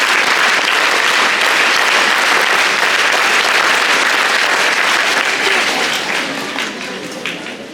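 A large group of Scouts and Guides at a Founder Day gathering clap together in loud, dense applause that holds steady and then fades out toward the end.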